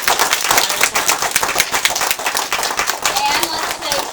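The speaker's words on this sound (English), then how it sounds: "let's give him the biggest round of applause we can give him" Audience applause after a speech, a dense burst of many hands clapping together, loud and close throughout, with a voice audible underneath.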